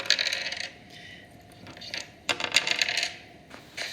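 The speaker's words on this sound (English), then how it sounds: "Roll the dice." Dice tumbling and clattering on a hard surface for a number-counting game, a few bursts of rattling with short pauses between rolls, close and fairly clear with no talking.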